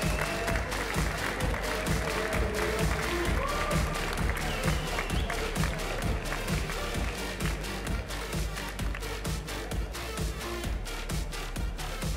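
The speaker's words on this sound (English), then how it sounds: "So how about a round of applause" Sustained applause from a large crowd at an Overwatch esports grand final, steady and dense throughout, with scattered cheers mixed in.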